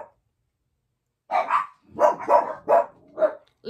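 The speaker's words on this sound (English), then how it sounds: "I think a dog's walking by in the neighborhood barking." A dog barks in the neighborhood, a quick volley of about five sharp barks in two bursts after a moment of quiet, fairly close and clear.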